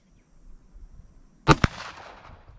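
A Ruger GP100 revolver fires a single sharp report with a quick second crack and a short fading echo, standing out alone against quiet outdoor background.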